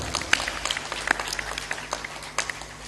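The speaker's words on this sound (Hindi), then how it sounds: "ये इतनी कमजोर ताली क्यों बजा रहे हो?" Scattered, thin clapping from a small audience at a Hindi spiritual sermon, with individual claps popping out irregularly over a low hum and no talk.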